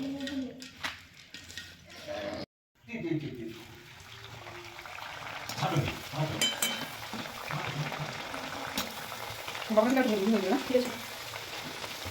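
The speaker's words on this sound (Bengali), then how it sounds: "বেলে নিলাম, এবার এগুলো ভেজে নেব।" Luchi, small puffed flatbreads, fry in hot oil with a bubbling sizzle that runs throughout, broken by a brief silent gap, then quieter crackling and louder bubbling near the end while a voice speaks faintly underneath.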